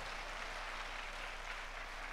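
Congregation applauding at a church service, a steady wash of dense clapping sustained throughout at moderate distance, no voices standing out.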